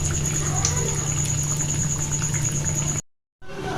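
Pumpkin fritters frying in hot oil bubble and crackle in a continuous close hiss over a faint steady hum, cutting out briefly near the end before resuming.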